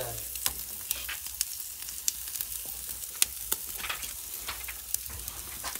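Meat sears fat side down on a barbecue grill, a steady soft sizzle scattered with sharp pops and crackles of spitting fat, close and fairly quiet, with no talk.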